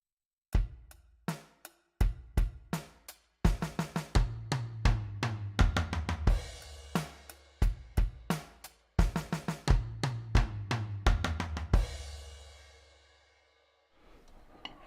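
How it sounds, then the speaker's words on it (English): A solo drum fill mixing quick sixteenth-note bursts with steadier eighth-note hits, crisp and close, repeated in phrases before fading into a cymbal wash. "I want to do 16th note on beat 1, 8th note beat 2, 8th note beat 3"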